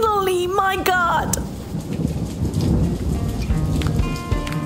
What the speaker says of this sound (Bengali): উফ, বৃষ্টি, ইয়েস, কতদিন পরে ফাইনালি, মাই গড।